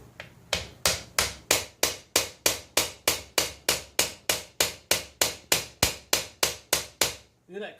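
A plastic hammer raps steadily on the top of a Rochester Quadrajet carburetor from a 1979 Chris Craft 350 V-8, producing around twenty quick, regular close-up knocks that end in a brief scraping rustle.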